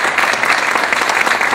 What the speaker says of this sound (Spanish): se me había pasado también saludar y darle un aplauso a la coordinadora de la Casa del Adulto Mayor, Georgina López.